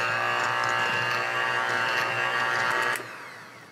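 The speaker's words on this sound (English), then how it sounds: "Use my handy blender to mix all the ingredients." A handheld blender whirs while mixing ice cream ingredients of sugar and vanilla extract, a loud steady motor drone that cuts off near the end, leaving a fading hum.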